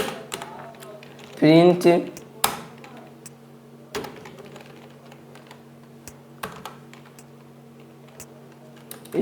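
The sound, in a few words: typing on a computer keyboard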